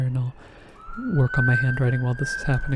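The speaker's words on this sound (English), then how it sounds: "apologies for the sirens in the background" A rising police siren wails steadily in the background while a person keeps talking over it.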